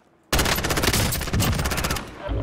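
Automatic gunfire in Call of Duty Warzone, a loud sustained rapid burst of shots starting abruptly after a brief quiet, with a short break midway and a trailing final volley.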